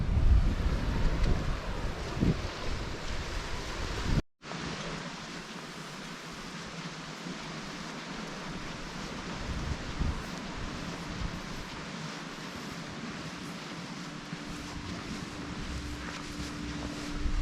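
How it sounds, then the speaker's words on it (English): Wind and surf on an overcast beach during a walk: a steady, loud roar of wind and waves runs the whole way, with heavy wind buffeting on the microphone and a brief dropout near the start. "We're walking down this beach"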